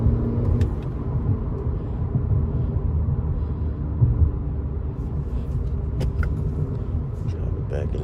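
Interior of a 2021 Acura ILX A-Spec with a 2.4 engine accelerating, a low steady engine drone and road rumble heard from inside the cabin, fairly loud and continuous, with a few faint clicks over it.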